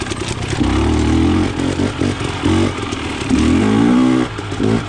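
A KTM 300 XC TPI two-stroke dirt bike with a low-compression head insert, ridden in third gear over icy ground, its engine droning loud and close with repeated rises and dips in revs and some chassis clatter.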